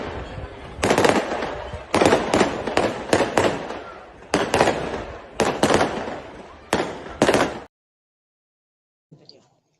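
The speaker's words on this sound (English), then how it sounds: "So there we are, night lights and fireworks." Fireworks bursting at night on Eid near Al-Aqsa in Jerusalem, a loud, dense run of crackling pops and booms in clustered volleys for about eight seconds, then abrupt quiet with one faint distant pop.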